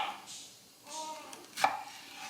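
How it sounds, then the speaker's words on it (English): A knife slices through peaches on a board in a few separate strokes, closely miked and fairly quiet, with a sharper cut near the end. "I just kind of cut it down the middle, and I'm going to do slices."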